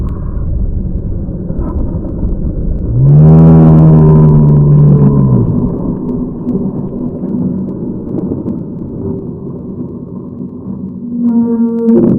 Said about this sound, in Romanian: grijă că vine o mașină!